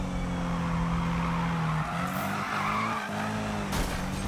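Car braking hard with tires skidding during a Need for Speed race, a steady engine drone overlaid by screeching tire squeal and a brief gear shift, close and loud with no voices.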